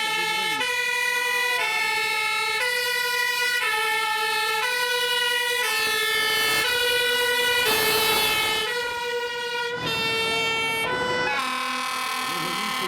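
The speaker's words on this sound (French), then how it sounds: "un véhicule qui va passer, c'est ce qu'on appelle le véhicule de commandement" A fire brigade command vehicle passes at a fire station open day in Wavre, its two-tone siren wailing loud and steady throughout, with engine noise and crowd murmur beneath.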